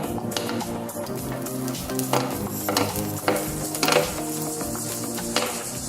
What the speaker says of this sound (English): And then all we need to do is just wait for the onion to cook up.